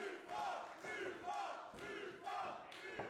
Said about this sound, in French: Et la foule qui demande plus fort, plus fort.